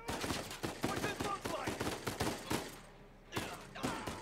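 Rapid bursts of gunfire during a firefight in Uncharted 4: A Thief's End, loud repeated shots in quick clusters with a short lull before firing resumes.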